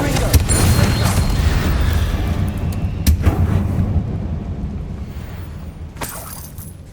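Confringo spell blasts go off in the Hogwarts Legacy video game: sharp booming explosions at intervals with crackling debris over a continuous game soundscape.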